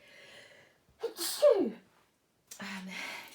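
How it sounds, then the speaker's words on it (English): A single loud sneeze with a sharp intake beforehand, followed by a pause and then a brief voiced breath or exhale. "I'm sorry, I'm going to sneeze."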